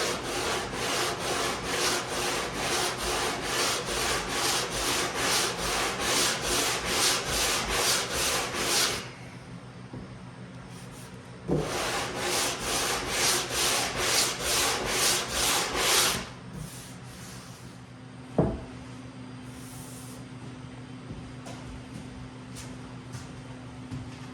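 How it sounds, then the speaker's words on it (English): Rhythmic back-and-forth sanding strokes rasp against the wooden edges of a Whirlwind pinball machine under restoration, a long burst, a pause, a second burst, then quieter rubbing and a single knock. "we go ahead and sand these edges off of here"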